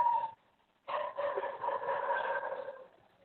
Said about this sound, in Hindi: अब ये देखिए पीछे कोई डॉग भौंक रहा है